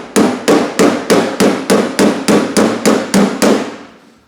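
A hammer strikes a metal door skin about a dozen times in a steady, even rhythm, each blow loud, close and ringing briefly.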